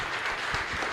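Applause from a church congregation at a live Mass in the Santísima Cruz chapel, Ñemby, filling a short moment as dense, steady clapping that stays fairly even in loudness throughout.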